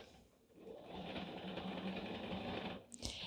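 A sewing machine runs steadily, stitching binding through many thick layers of a quilted pot holder at a 2.5 mm stitch length, with a continuous close whir for about three seconds, then a brief clunk as it stops.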